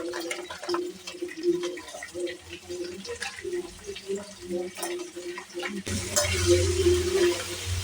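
Pieces of crab sautéing in hot oil in a pan, with scraping stir strokes over a soft sizzle that swells louder and brighter toward the end.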